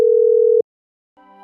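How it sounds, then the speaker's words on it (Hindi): A cartoon telephone call tone sounds as a single steady beep lasting about half a second and then cuts off, followed by a faint, brief tonal sound. "टूनी चिड़िया ने फोन करके उससे बात की।"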